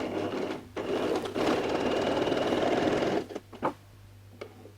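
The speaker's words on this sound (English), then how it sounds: "I just go and sew again a 1/2 inch stitch" A sewing machine stitches stretch T-shirt fabric in a steady, close hum for about three seconds, followed by a few short clicks and fabric rustles as it stops.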